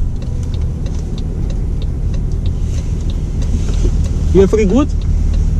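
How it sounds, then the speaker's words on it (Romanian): Road traffic roars steadily past a parked car, a loud continuous low rumble with faint higher hiss throughout, while a person speaks briefly near the end. "dar se aude rău de tot aici, mașinile"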